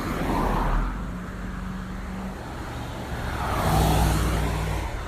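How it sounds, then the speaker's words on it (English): Cars go by on a busy feeder road in Milford Township, two clear passes swelling close and loud and then fading, with a steady traffic rumble between them and no voices. "This is a little busier traffic area."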